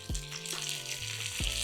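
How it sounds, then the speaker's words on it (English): Buffalo chicken pieces frying in a pan, a steady loud sizzle with crackling pops, broken by a couple of low thuds and scrapes as the pieces are turned. "They just sizzling."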